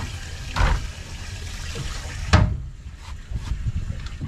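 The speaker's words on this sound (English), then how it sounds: "We just switch that on there like that. And that comes in and aerates all the water." An aerator switched on in the live bait tank of a fishing boat pumps and splashes water, a steady close wash with two brief louder surges, running alone without talk.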